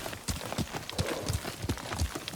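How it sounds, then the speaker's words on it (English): Horse hooves clip-clopping in a steady, close rhythm in the samurai video game Ghost of Tsushima, a run of evenly spaced strikes approaching with no talk over them. "Where's my horse?"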